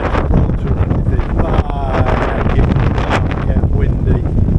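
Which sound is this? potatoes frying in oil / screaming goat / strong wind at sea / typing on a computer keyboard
strong wind at sea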